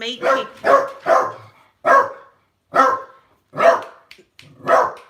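A dog barks in a series of seven loud, close woofs spaced roughly half a second to a second apart, with short pauses between them and no talking.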